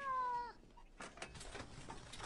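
A cat gives a clear, drawn-out meow at the start, set in a Hindi-dubbed Hollywood action film, followed by quieter rustling and movement with no speech.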